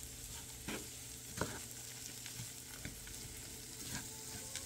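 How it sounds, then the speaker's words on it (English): Cauliflower fried rice with onions and mushrooms sizzles steadily in a pan while a utensil stirs it, with scattered scrapes and taps against the pan standing out from the constant frying hiss. "we want to mix everything in so this cauliflower can get all the seasoning from the onions and the mushrooms"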